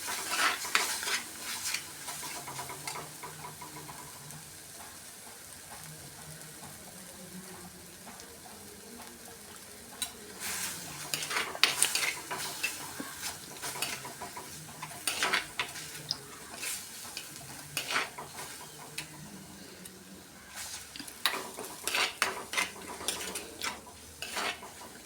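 Masala sautés in a pan for a Kochi-style mackerel coconut curry, with a soft continuous sizzle under repeated scraping and stirring strokes of a utensil against the pan, fairly close and moderately quiet.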